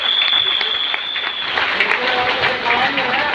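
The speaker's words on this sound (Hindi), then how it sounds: "जोरदार तालियां" Loud, dense applause from a crowd at a gathering, sustained throughout with a steady high tone and the murmur of voices beneath the clapping.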